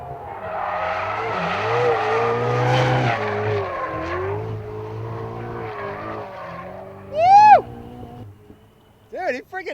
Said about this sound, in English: taking out a Ferrari 488, brand spanking new off the showroom floor